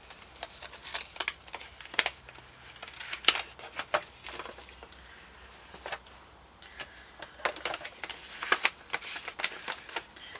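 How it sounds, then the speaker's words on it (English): An envelope being opened by hand and its sticker peeled off, with close crisp paper rustles, crinkles and short tearing bursts coming in irregular clusters, and a quieter pause partway through. "I like to save the envelopes if I can get them open without the sticker ripping and pull the sticker off"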